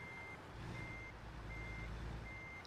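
Regular reversing beeps from a Kenworth T800 truck backing up in American Truck Simulator, four evenly spaced steady tones over a low engine idle hum, no talking.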